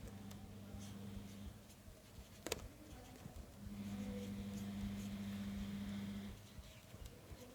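A pen writes a math answer on paper, faint scratchy strokes under a steady low hum, with one sharp knock partway through.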